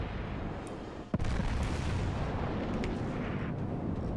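Naval gunfire in a World of Warships battle, a broad rumbling barrage with a sharp boom near the one-second mark and scattered distant shots over continuous low battle noise.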